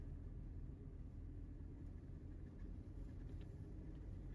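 Steady low road rumble from inside a car cruising at about 80 km/h during a brake test, faint and continuous with no talking.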